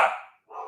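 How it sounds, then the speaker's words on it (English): A dog gives two quick, sharp, excited barks close by, a short gap between them, with no other sound around. "guess my dog is excited"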